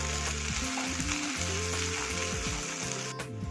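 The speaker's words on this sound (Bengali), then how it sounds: "দিলাম আদা রসুনের পেস্ট। এটাকে এবার ভালো করে কষিয়ে নেব" Ginger garlic paste frying in a pan on a high flame, a dense close sizzle throughout the short stretch, with low tonal hums running underneath.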